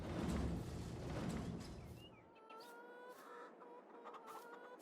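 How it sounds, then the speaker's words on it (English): Chickens clucking on a farm in the Farming Simulator 22 game, several short clucks and calls heard over a heavy rumbling machine at first, then standing out more clearly as the rumble drops away. "Those chickens cawing in the background."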